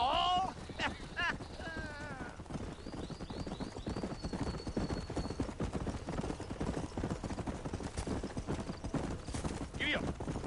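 Horse hooves clop in a steady, brisk rhythm while riding in Red Dead Redemption, with a few whistles and a short whinny-like call early on, continuing under the ride with no talking.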